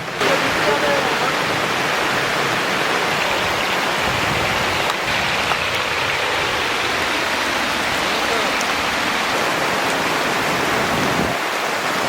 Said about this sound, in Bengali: এখন তাকে ভয়ানক বৃষ্টি, আমাদের কাজ কিন্তু চলছে।